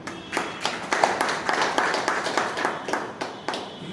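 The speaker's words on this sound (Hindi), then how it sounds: "ऐसे समाज के लिए एक बार जोरदार तालियां" An audience at a Narad Muni Jayanti function bursts into applause, a burst of scattered hand claps, moderately distant and fairly light, with a faint murmur of voices beneath.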